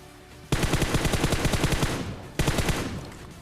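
Automatic M4 rifle fire in the PUBG Mobile battle royale game, two loud close bursts of rapid rounds with a brief pause between them.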